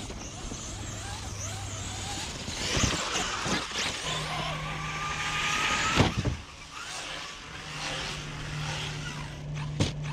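A Traxxas XRT RC truck fitted with an M2C chassis brace whines along at high revs, with sharp thuds as it jumps and slams down hard enough to crack the chassis; the motor pitch rises and falls between impacts.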